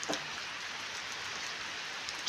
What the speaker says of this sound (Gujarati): વરસાદ અહીંયા મારે ચાલુ છે અત્યારે સરસ મજાનો